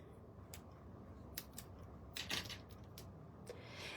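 Scissors trimming foam tape at a craft table, a handful of quiet crisp snips spaced irregularly, close and faint, with no talking.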